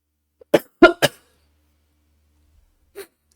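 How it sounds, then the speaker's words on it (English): A person coughs three times in quick succession, close and sharp, followed by a softer single cough after a short silence. "I need a cough right now"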